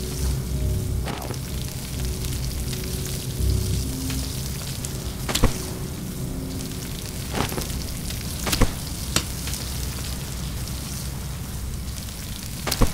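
Food sizzling over a fire while cooking in the survival video game Stranded Deep, a steady close crackling hiss with occasional sharp pops, no voices.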